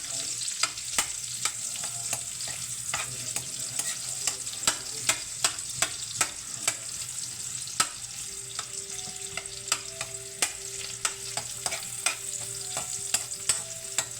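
Onions frying in a pan for a simple chicken feet dish, crackling with a steady sizzle, broken by sharp regular taps and scrapes of a spoon stirring close by.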